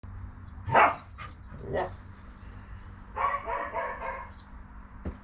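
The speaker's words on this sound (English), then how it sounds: "I have a barking dog to contend with" A dog barks a couple of times nearby, then lets out a quick run of yappy barks; a brief voice is heard at one point.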